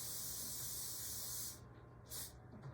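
A steady, loud aerosol cooking spray hisses continuously into a baking pan, then cuts off and gives one more short burst near the end.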